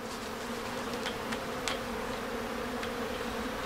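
Honeybees droning steadily at an opened hive being worked with a smoker during a walk-away split, a continuous close buzz with a few brief sharper sounds above it.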